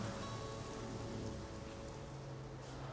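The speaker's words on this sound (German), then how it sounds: "Glücklicherweise ließ der Regen nach." Steady rain patters on a surface, a soft continuous hiss of drops with a low background hum.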